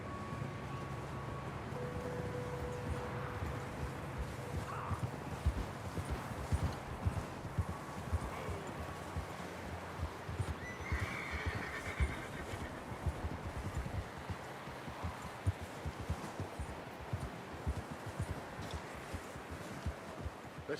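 Horses clip-clop along at a trot in the Red Dead Redemption 2 game, their hoofbeats steady and fairly soft against a quiet outdoor backdrop of wind and rustling.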